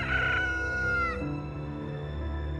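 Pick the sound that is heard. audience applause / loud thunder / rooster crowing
rooster crowing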